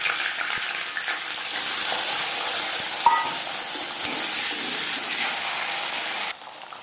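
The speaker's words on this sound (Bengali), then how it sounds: "ভেজে নেব মটরশুঁটি।" Green peas frying in a pan for vegetable fried rice, a steady, close hiss of sizzling oil with a few faint clinks, cutting off near the end.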